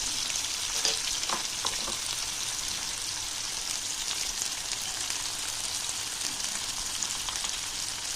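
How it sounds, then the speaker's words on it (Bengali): Potatoes and onions frying together in a pan for a fish curry, giving a continuous, even sizzle with occasional faint stirring scrapes and no talking. "খুব ভালো করে তাকে ভেজে নেব। একসাথেই দিয়ে দিলাম আলু আর পেঁয়াজটা।"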